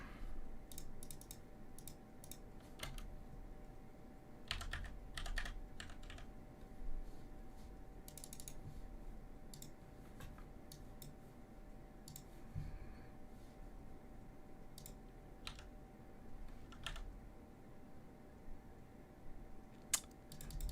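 Rapid clicking keystrokes on a computer keyboard that is skipping, with irregular bursts and short pauses over a steady low room hum, close and moderately loud, no voices.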